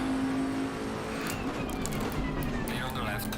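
Race car in Assetto Corsa Competizione at Zolder drawing alongside on the left, its engine drone holding steady under a louder constant engine note, with no speech over it.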